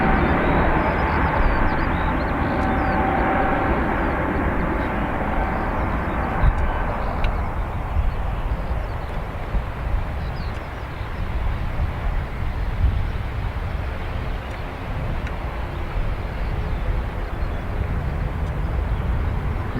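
An aircraft on the north runway at Dublin Airport, a steady broad roar heard from a distance that stays level and then eases slightly, with no talking.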